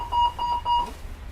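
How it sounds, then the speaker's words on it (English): A train saloon wheelchair-bay call-for-aid alarm sounds three clear, loud electronic beeps in a steady rhythm, then stops, with no voices. "If you hear either of these two alarm tones, investigate immediately."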